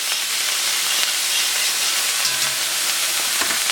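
Ginger and garlic sizzle in hot vegetable oil for a bok choy stir-fry, a steady broad hiss running throughout at close range, with a faint low hum entering partway through.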